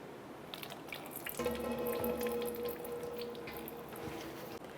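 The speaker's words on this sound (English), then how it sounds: "And we'll just drain it in the oil pan." Engine oil from a 2003-2008 Subaru Forester drains into an oil pan as a steady close trickling pour, starting after a brief pause and running continuously to the end.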